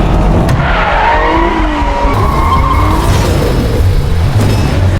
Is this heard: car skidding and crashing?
yes